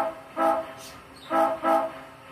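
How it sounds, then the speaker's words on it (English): Three short whistle toots from an Athearn Genesis 4-6-6-4 Z8 Challenger model steam locomotive sound up close, one followed after a pause by two quick bursts, with no talking. "F3 are the short bursts"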